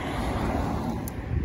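Steady roadside traffic rumbles past, a continuous broadband wash of vehicle noise with some wind buffeting, loud and close throughout with no voices.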